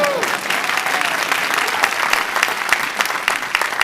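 An audience at a live design-talk event claps in a sustained burst of applause, dense and fairly loud, a bright crackle of many hands filling the room.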